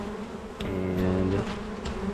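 Honeybees buzzing around an open hive frame during a beekeeping hive inspection, a steady close drone with a louder humming swell in the middle, brief and alone without talk.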